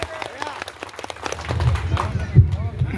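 An audience claps for a magic trick performed by a police officer doing magic. The scattered hand claps build and grow denser, mixed with voices talking in the crowd.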